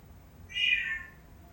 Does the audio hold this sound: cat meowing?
yes